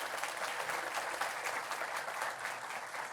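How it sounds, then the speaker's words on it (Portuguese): Applause from the crowd at the opening ceremony of the CSB national meeting in 2026, a continuous clapping wash that sounds somewhat distant and soft throughout. "Uma salva de palmas para a juventude brasileira"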